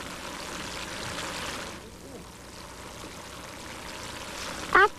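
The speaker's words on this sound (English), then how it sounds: "The water is eroding the Earth, eating away the soil and carrying it downstream." Water trickling along a small stream as it erodes and carries away soil, a soft steady flowing hiss that drops partway through, ending with a brief louder splash.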